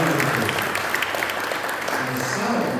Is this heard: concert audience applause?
yes